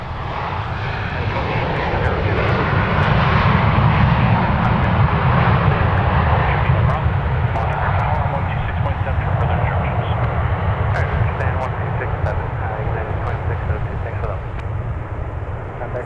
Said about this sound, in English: And they are back down on the ground. That was a 2-hour and 28-minute flight from Vegas.